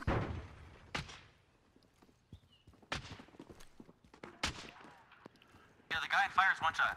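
Several sharp, isolated gunshots from an online shooter video game crack out a second or so apart, fairly faint, with a voice talking in between and a brief burst of game sound near the end.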